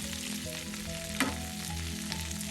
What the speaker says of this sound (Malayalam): അതൊരു എണ്ണയിലൊന്ന് നോക്കാം. എല്ലാം ചെറുതായി ഒന്ന് മൂക്കട്ടെ.